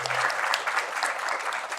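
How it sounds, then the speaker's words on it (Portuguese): Brief burst of dense applause from a university audience honoring a professor, steady clapping filling the whole moment without speech. "Gostaria de solicitar também uma salva de palmas à professora Marilene."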